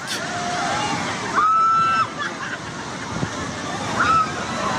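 Heavy hurricane-driven ocean swell sloshes and crashes in a flooded street, a loud churning roar with surging splashes, while high whistling tones and a voice run over it.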